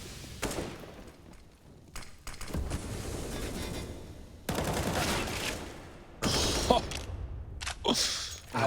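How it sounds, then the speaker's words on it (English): In a CS:GO esports match on Nuke, an AK rifle sprays bursts of gunfire in dense, loud stretches, separated by short quieter gaps with game noise. "You've only heard that 1 AK spraying back in lobby."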